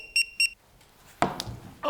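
A phone key-finder app gives two short, bright electronic beeps in quick succession, close and clear, followed by a brief muffled rustle and a soft clatter.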